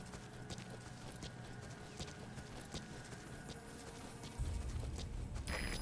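Horse hooves clip-clop at a steady walking rhythm in the video game Metal Gear Solid V: The Phantom Pain, with a low rumble swelling near the end.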